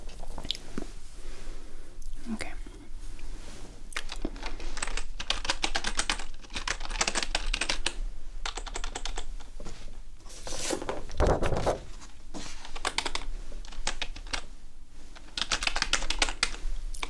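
Steady typing on a computer keyboard during a teacher-grading roleplay, with continuous close-up key clicks in uneven bursts and no speech.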